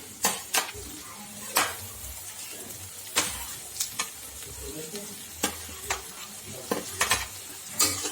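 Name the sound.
onion and tomato frying in a pan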